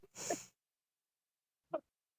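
A single quick sneeze bursts out near and clear, followed after a silent pause by a brief faint vocal sound.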